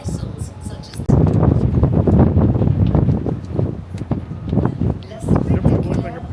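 Steady wind buffets the microphone in a continuous rumbling roar, loud and close, with brief rustling gusts throughout.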